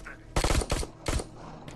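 Rapid automatic gunfire in the Terminator: Resistance shooter game, two sharp bursts of several shots each, close and punchy, ending with a single faint shot.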